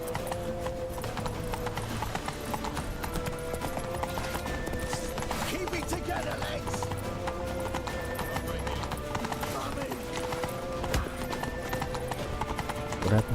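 Horse hooves galloping in a video game, a steady rapid clip-clop rhythm running throughout at close range, with voices talking over it.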